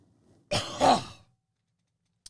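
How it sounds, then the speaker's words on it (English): One hard, harsh cough bursts out close and loud, rough and throaty, then falls silent, with a tiny click at the end. "you know it's bad when you cough so hard that your eyes water and your glasses start to fog"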